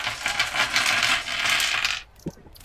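In the Shattered Lands: Resistance video game, coins drop from looted bodies with a bright, dense jingle for about two seconds, followed by a single faint clink, loud and close with no talk.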